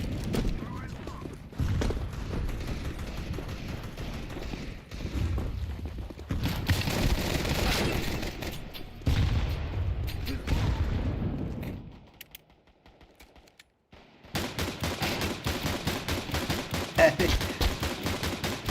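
Gunfire in a Counter-Strike 2 competitive match, repeated bursts of shots in several loud stretches broken by a short quiet gap, mixed with game noise and some talk.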